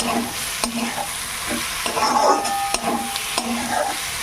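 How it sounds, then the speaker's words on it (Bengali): Water goes into a pan of sizzling spices, cumin, coriander, masoor lentils and bitter gourd. A loud, steady sizzle plays throughout, with a few sharp spoon knocks and a bubbling surge in the middle. "ভালো করে মশলাগুলোর সঙ্গে মিশিয়ে মিশিয়ে এবার পানি দিয়ে দেবো"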